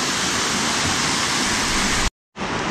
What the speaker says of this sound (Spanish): Esta es parte de la cima, digamos, de la catarata, ¿no? Porque es la caída del río.